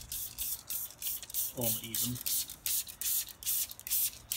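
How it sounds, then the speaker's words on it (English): Diluted acidic wheel cleaner is sprayed onto the dirty rear wheel of a car in a series of close, hissing spray bursts, with a brief voice speaking midway through. "So I'm going to spray it on to this rear wheel here."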